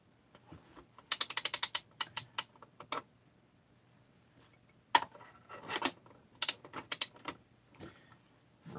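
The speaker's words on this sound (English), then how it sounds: "just to ratchet it down" A ratchet tightening bolts on a Stihl 440/460 clone chainsaw fitted with a big bore kit, bursts of rapid close clicking in several short runs separated by pauses, crisp and fairly loud, no talking.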